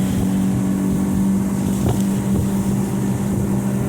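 A 2019 Bass Buggy 16 ft boat's outboard motor runs at speed on a lake, a loud steady drone with rushing wind and water noise, continuous and close.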